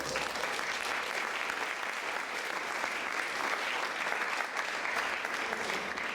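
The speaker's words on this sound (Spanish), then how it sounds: "Dale palmas al Señor." A church congregation claps for the Lord during a Spanish-language sermon on leadership, dense sustained applause from a crowd filling the whole stretch, loud and even with no voices over it.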